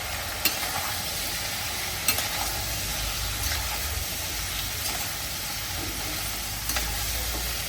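Boiled jackfruit being stirred in a cooking pot, a steady soft scraping and churning with occasional sharper knocks of the spoon, close and continuous.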